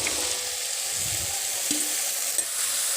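Chili and potatoes fry in a pan as part of an Assamese vegetable dish, giving a steady sizzling hiss at close range with faint utensil sounds and no talk.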